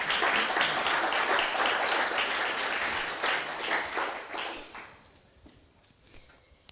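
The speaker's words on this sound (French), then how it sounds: "Sous vos applaudissements." Audience applause for panelists taking their seats at a round-table event, a dense steady clatter of many hands that thins and fades out over the last couple of seconds.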